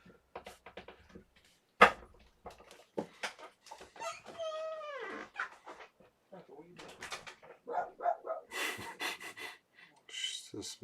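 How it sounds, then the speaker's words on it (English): A dog pants and makes whining, talkative vocalizations in short bursts, including one long rising and falling whine, heard close between breathy sounds and quiet pauses. "That's my dog talking to Alex."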